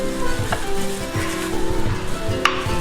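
Pork belly sizzles on a barbecue grill, a steady close crackle and hiss with a few light clinks of utensils mixed in throughout.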